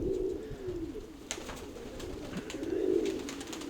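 Domestic pigeons coo in soft, repeated low calls that swell and fade, fairly close, with light rustling and small knocks in between and wind in the background.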